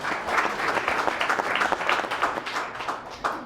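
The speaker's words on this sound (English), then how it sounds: "Yeah, that deserves a round of applause." A crowd at an outdoor campaign meet-and-greet in Council Bluffs, Iowa claps steadily and fairly close, with a busy patter of individual hand claps that keeps going for several seconds.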